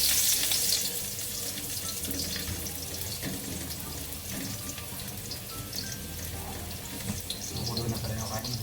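Garlic sautés in a hot kawali (frying pan) for a squash and crab coconut dish, giving a continuous, low, hissing sizzle that holds steady throughout, with faint kitchen noises.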